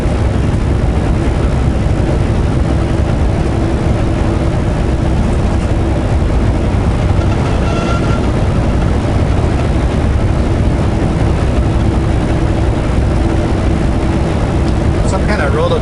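A tractor pulls a rototiller across a field, its heavy engine a steady low drone throughout, heard from inside a vehicle under constant road and wind noise.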